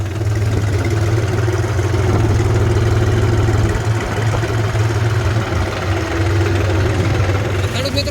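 Tractor engine running steadily in second gear while sowing maize in a field, a loud continuous low rumble with a droning hum that stays even throughout, and someone talking over it.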